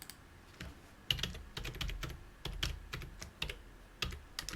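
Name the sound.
typing on a computer keyboard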